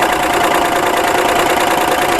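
Baby Lock Celebrate sewing machine stitching quilt pieces, a loud, close, continuous motor hum with rapid rhythmic needle chatter running steadily without pause.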